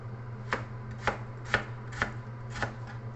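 A knife cuts potatoes into small pieces for minced pork, with six evenly spaced, crisp chops landing on a board at close range, alone with no talk.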